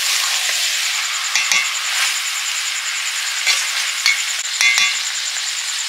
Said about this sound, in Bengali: এবার ঢাকা দিয়ে দিয়ে কষে নেবো ভালো করে